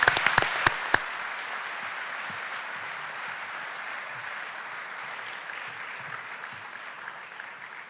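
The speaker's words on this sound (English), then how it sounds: "Let's give Berlin High School a big round of applause." An audience at a leadership conference held at Berlin High School applauds, opening with a few sharp, distinct claps before settling into a steady, even wash of clapping that holds to the end.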